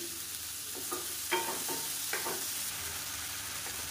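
Tomatoes and onions sautéing in a pan for a chutney give a steady soft sizzle, broken by a few short scraping stirs from a spoon. The sound is close and moderately quiet, with no voices.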